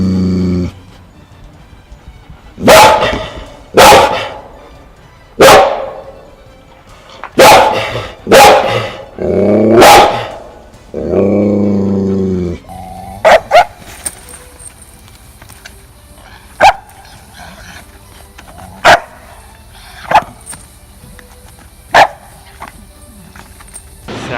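Two Malinois dogs bark in loud, repeated bursts, with a growling stretch after the first barks, then sharper isolated barks and yips over a busier town background.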